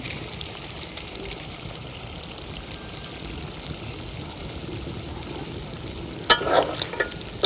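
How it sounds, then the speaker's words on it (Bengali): Chicken fingers fry in a village-style pan with a steady, close hiss of sizzling oil that runs throughout, swelling briefly louder near the end as the pieces are stirred. "বন্ধুগণ মোগো চিকেন ফিঙ্গার ফ্রাই এইতে আছে, জাল দিতে আছে।"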